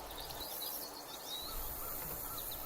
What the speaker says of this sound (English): Listen to the birds as they welcome the morning